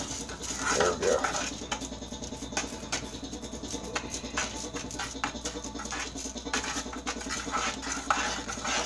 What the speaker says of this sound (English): You want to continuously stir this so it doesn't scorch, because if you don't, it will burn.